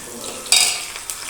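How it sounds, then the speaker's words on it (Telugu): Tempering spices with garlic hit hot oil for Andhra pappu charu, bursting into a loud sizzle for about half a second, then settling into a softer crackle with a second brief flare. "పోపు వేసేసుకుంటున్నా."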